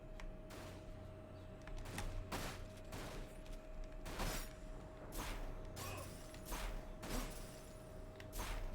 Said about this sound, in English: Nope, I hear gunshots.